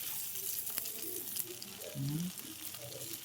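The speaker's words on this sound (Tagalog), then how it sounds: "Lutuin muna natin yung kamatis." Tomatoes sautéing in a pan for ginisang sayote with ground meat, a steady soft sizzle with occasional stirring scrapes and small clinks, close and quiet.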